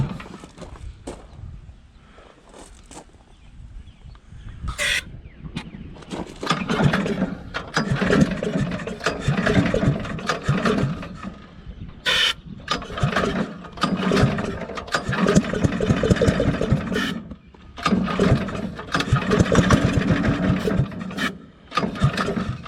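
A pull-start engine on a WWII aircraft generator welding machine being cranked: repeated rough rasping pulls and sputtering bursts come in uneven waves, loud and close, with short pauses between attempts.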